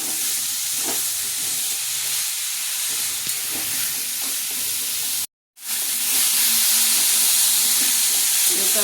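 Potatoes frying in a pan with turmeric and salt for mocha ghonto, a steady close sizzle and hiss that continues without pause apart from one brief cut, with no talking.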